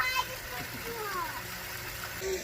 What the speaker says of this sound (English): there's his waterfall